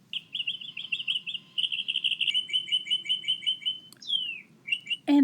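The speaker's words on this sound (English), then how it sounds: "I really missed the birds." Small birds chirp and tweet in repeated quick bursts of high, bright notes, with a steady low background hum and a sharp descending whistle near the end.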